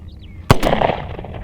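A single loud gunshot from a C96 Mauser pistol cracks sharply and close, then trails off into a brief echoing decay.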